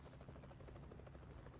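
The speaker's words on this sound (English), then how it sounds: "And a helicopter." A helicopter flies overhead in the American Truck Simulator game, its rotor a steady rapid chopping thrum heard faintly and without talk.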